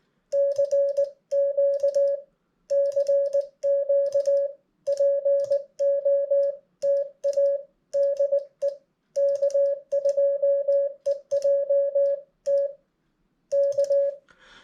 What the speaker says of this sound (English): So what you just heard was CQ, POTA, DE, my call sign, and then K.